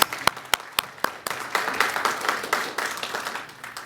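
Audience applause at a university ceremony honoring Dr. Roscoe Williams, opening with a few sharp individual claps that quickly build into steady, full clapping from the room.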